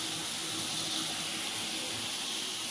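Water runs from a tap in a steady, even hiss-like stream that holds for the whole moment, with no talking.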